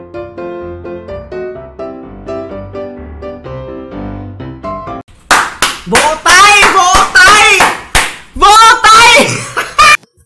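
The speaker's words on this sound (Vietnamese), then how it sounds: "Vỗ tay!" Music gives way to a burst of loud, sharp hand clapping with excited shouting voices, dense and sustained for several seconds before stopping abruptly.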